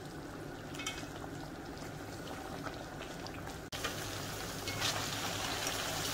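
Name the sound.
frying chicken with green chilies and garlic-ginger paste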